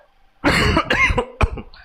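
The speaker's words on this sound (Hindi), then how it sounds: "थोड़ा खांसी हो गया" Several sharp, harsh coughs in quick succession, close and loud, followed by a softer final cough against near silence.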